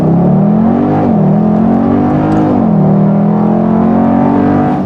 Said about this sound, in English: launch control set, apply throttle, here we go.